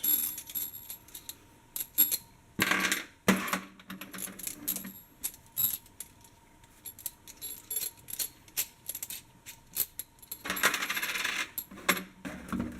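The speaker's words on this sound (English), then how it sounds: "Then you take your bolts, the washers, this." Metal bolts and washers for front wheel spacers on a Nissan Pathfinder R50, handled close up: scattered clinks, jingles and sharp metallic taps in irregular bursts, with quiet gaps between them and no talking.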